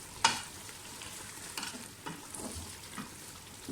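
Tomato mutton curry (tamatar gosht) sizzles softly in a pot as it is stirred and sautéed, with quiet scrapes and light bubbling close by.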